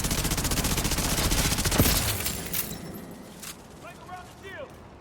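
Rapid bursts of video game gunfire fill the first half, loud and dense like a fusillade, then fade into quieter scattered shots and electronic effects as voices talk over the action.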